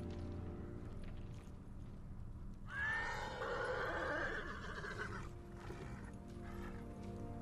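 A horse in the video game Ghost of Tsushima whinnies once, a clear rising then falling neigh lasting a couple of seconds over a low ambient game soundscape.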